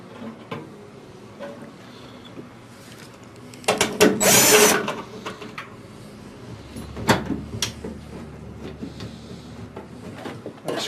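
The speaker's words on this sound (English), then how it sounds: "we're going to remove those 4 screws on each side" Screws being backed out of the heater log assembly of a Heat Surge electric fireplace: one loud whirring burst of a driver midway, with scattered clicks and handling clatter before and after.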